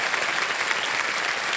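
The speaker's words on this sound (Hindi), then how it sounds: "तालियां मत जाए इनके लिए." A studio audience on a game show set applauds a contestant, giving a dense, loud and steady ovation that fills the room with no talking over it.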